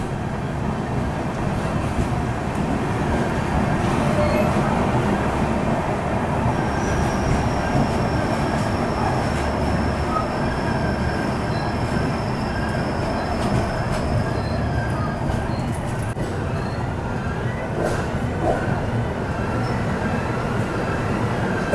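Mumbai Howrah Duronto Express running on rails, a steady, loud, continuous rumble and rattle of the carriages with faint high wheel squeal, unbroken throughout and with no voices.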